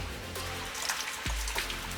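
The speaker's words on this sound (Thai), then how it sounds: "ฝนลงฝนลง ครับโอ้น้องฝน น้องฝนก็ไม่เป็นใจนะวันนี้ครับ ก็เป็นช่วงพายุเข้านะครับ" Rain falls steadily during a storm at an outdoor country cooking spot, making a dense, continuous hiss with scattered drops and a few dull low thumps.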